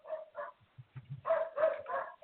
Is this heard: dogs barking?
yes